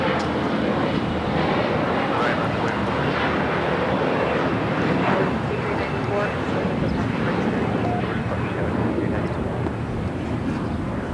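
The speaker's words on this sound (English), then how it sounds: "Just had a Delta 757-200 touchdown here on the south side from San Jose, Costa Rica" A Delta Boeing 757-200 touches down at Los Angeles LAX as a continuous broad jet roar, steady and moderately distant, with a wind-like rush mixed in.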